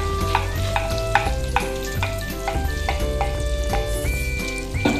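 Garlic sizzling and being stirred in a hot pan while cooking kangkong, a busy crackling fry with repeated clinks and scrapes of a utensil, close and loud, with no talk.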